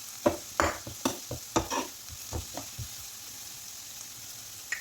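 Green chili, garlic and ginger sautéing in a pan for an uluva cheera potato fry, with a quiet sizzle and a run of sharp stirring clinks and scrapes that thin out toward the end.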